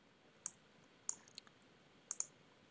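Crisp computer mouse right-clicks inside a CAD program, heard as a few sharp isolated clicks, some in quick pairs, against near silence.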